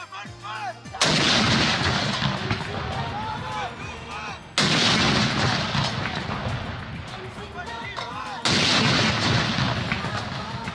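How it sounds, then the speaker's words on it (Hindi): Artillery cannon salute fired in Islamabad for Pakistan's Independence Day: three loud, booming blasts, each followed by long rolling reverberation and echo, with no voices. "वफाकी दारुल हुकूमत इस्लामाबाद में 31 तोपों की सलामी से दिन का आगाज हुआ"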